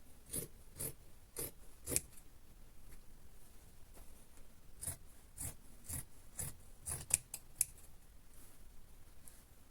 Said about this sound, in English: I'm going to cut this sleeve